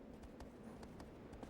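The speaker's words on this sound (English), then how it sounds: "Trying to figure out how to maintain speed with the horse" Horse galloping in the video game Shadow of the Colossus, with steady rhythmic clip-clop hoofbeats at a fast pace over a soft game background, fairly faint and without talk.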